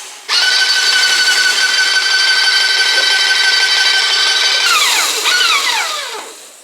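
An airless spray gun sprays dirty old turps into a container, giving a loud, steady hiss with a high whine that runs unbroken for several seconds, then briefly cuts out and sputters twice before fading.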